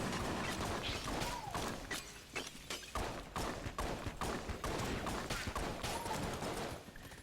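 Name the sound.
The Kiln pottery gun firing in video game Enter the Gungeon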